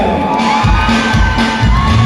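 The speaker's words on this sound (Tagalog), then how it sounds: "isang malakas na palakpakan ng kasamang hiyawan!" A concert crowd at an anniversary show in Santa Cruz, Occidental Mindoro, claps and cheers loudly, with shouts and whoops layered over steady low booming thumps that run throughout.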